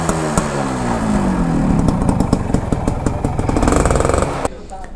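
A stock vintage 125cc Kawasaki two-wheeler idles and revs loudly up close, its buzzing drone rising and falling before cutting down near the end, with a voice faintly over it.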